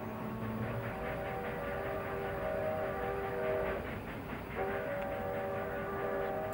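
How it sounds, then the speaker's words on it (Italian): A freight train heading east rolls past with a steady rumble and clatter of wagons, overlaid by sustained tonal squeals, moderately distant and with no voices. "È il treno merci diretto ad est."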